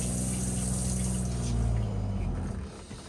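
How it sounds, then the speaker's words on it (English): A Forest River Rockwood Geo Pro G20FBS travel trailer toilet fills with water after a foot-pedal flush, giving a close, steady rushing gush that fades toward the end, with no talk. "It has a single foot flush on the right hand side for the toilet. Fills with water,"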